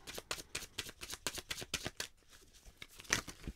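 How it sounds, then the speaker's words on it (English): Playing cards riffle-shuffled during a tarot-style reading, a rapid run of crisp, close bursts that slows and thins out toward the end, with no talking. "So we're not done shuffling."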